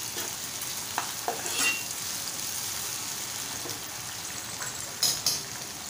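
Onion and tomato sautéing in a pan for prawn masala, a soft continuous sizzle with occasional scraping stirs and a couple of louder clanks from a spoon against the pan.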